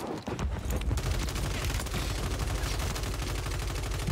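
Rapid automatic fire from an MTZ-556 rifle in Call of Duty on Rebirth Island, with dense back-to-back shots in a fast, even rhythm that rings out loud and continuous for a few seconds.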